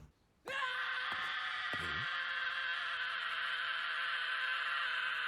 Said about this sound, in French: Mon Dieu, il fallait qu'il crie comme ça?